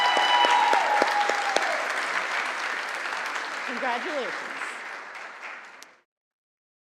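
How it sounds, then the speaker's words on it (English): Audience applause at a nursing school graduation ceremony rings out loudly for several seconds, then tapers off and stops abruptly, while a voice offers brief congratulations over the clapping. "If we can give our recipient a round of applause."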